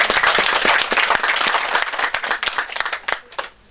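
An audience at a Cameroonian cultural arts event claps loudly for a woman who promoted the concept, with dense, fast clapping that gradually thins into scattered claps over a few seconds.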